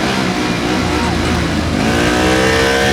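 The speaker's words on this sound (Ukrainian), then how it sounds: "Газує, газує уперед, правильну сторону, газує, розворот." A Bajaj Pulsar NS 200 motorcycle revs hard during a gymkhana competition run, a loud, continuous engine roar with rising and falling pitch close to the listener, mixed with a commentator's speech.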